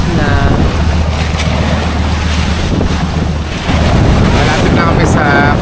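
A boat's motor hums steadily over rushing open-sea water and heavy wind buffeting the microphone at sunrise near Palanan, loud and continuous.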